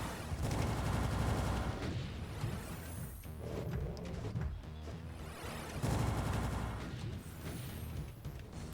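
Rockets fire in Doom 2, a dense barrage of launches and explosive booms that swells in two loud bursts with a quieter stretch between, without speech.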